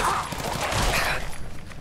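Pistol fire in the video game Fallout 4, a quick burst of sharp cracking shots over a busy game soundscape, fairly loud and close.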